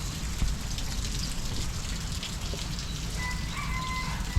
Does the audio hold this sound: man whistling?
no